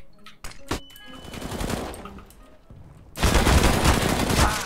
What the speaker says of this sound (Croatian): Opa, neko puca.